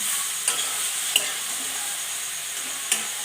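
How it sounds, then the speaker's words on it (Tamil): Beetroot sautéing in ghee makes a steady soft sizzle, broken by a few sharp spoon scrapes and taps against the pan, with no talking. "இப்போ அதையே நெய்யிலேயே இந்த பீட்ரூட்டையும் போட்டு நம்ம நல்லா வதக்கி விட்டுக்கலாம்."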